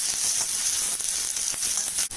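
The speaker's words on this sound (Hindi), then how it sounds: "प्याज भी साथ में डाल देते हैं। बस प्याज को 1 मिनट पकाएंगे, हमें इसको ब्राउन नहीं करना है।" Onion frying in an iron kadhai for Bihari-style potato bhujia, a steady close bright sizzle running unbroken throughout with no talk.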